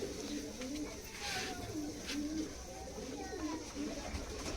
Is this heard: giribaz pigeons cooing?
yes